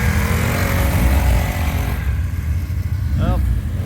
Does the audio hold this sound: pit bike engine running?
yes